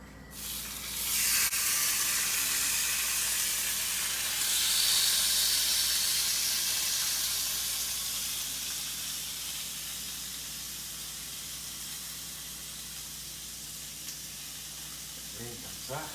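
Calf liver hitting a hot pan, a loud burst of sizzling and spitting that swells, then slowly fades to a steady hiss, with a few clatters near the end.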